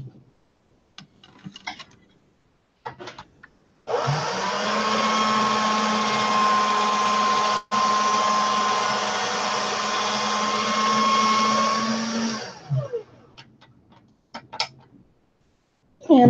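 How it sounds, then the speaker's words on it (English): A pasta machine on a thin setting rolls polymer clay, its hand-cranked mechanism grinding steadily for about nine seconds with a brief break, bracketed by clicks and handling noises before and after. "Now this goes to the pasta machine on a thin setting."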